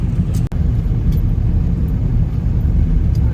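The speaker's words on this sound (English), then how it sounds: "Going for a ride, first ride in the truck without the camper on it." Pickup truck, with its camper removed, driving on a road trip in Baja: a steady, close, loud engine and road rumble with one brief dropout near the start, no voices.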